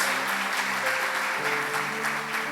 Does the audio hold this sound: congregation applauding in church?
yes